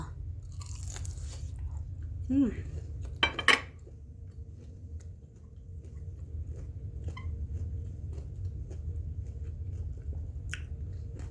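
Crispy pork chop is eaten over a steady low hum, with a couple of crunchy bites and a brief clink of cutlery near the start, then quiet.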